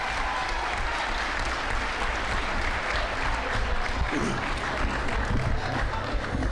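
Crowd at a school board meeting clapping for young people, a thick continuous roar of applause with some low crowd noise, steady and fairly loud across the whole stretch.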